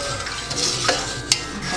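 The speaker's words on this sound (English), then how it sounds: "You're going to stir it up" A sugar mixture for cinnamon rolls is stirred in a pot, a brief soft swishing with a couple of light utensil clicks against the side, close and unaccompanied by speech.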